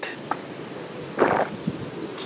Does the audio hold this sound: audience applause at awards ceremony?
no